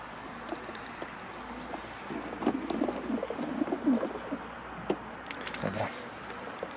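Pigeons coo softly in a loft during vaccination, low murmuring calls close by amid light shuffling and handling noises.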